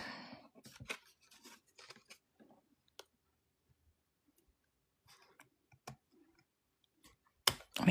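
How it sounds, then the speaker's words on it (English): Scissors snip through thick journal paper in a string of short, crisp cuts and ticks at close range, with quiet gaps between bursts and a louder snip at the end. "I mean, I can barely get a scissors through it."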